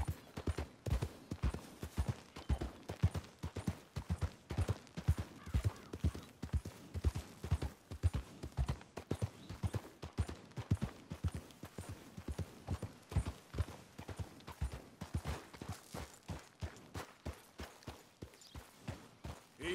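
Horse hooves galloping in Red Dead Redemption 2, a fast, steady clip-clop rhythm of close, loud hoofbeats running continuously throughout.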